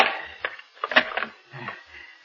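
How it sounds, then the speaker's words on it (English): A door being locked and bolted in an old radio drama: a few sharp clicks and a clunking bolt slide, close and fairly soft, spread over about two seconds with brief gaps between. "Now, wait, I must lock the door."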